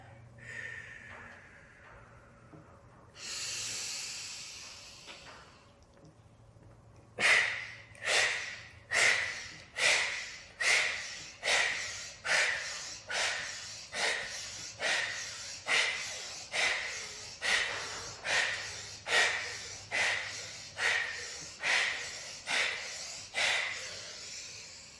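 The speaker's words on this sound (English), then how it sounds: "Okay, so we breathe everything out." Forceful breaths pushed out during a hip mobility workout: a long hiss, then a steady run of about twenty short, sharp exhales in an even rhythm, close and clear.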